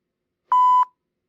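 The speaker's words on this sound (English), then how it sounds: "the beep will signal the end of the interval" A single clean electronic beep sounds alone in silence, one short steady tone of about a third of a second marking the end of an observation interval.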